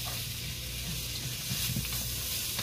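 Frozen peas sizzling in a hot pan for chicken fried rice, a dense steady close hiss with faint stirring scrapes, no talking.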